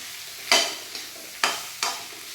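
A spoon stirs samosa filling with coriander powder in a hot pan, giving three or four distinct scraping strokes over a soft, steady sizzle, close and moderately loud with no talking.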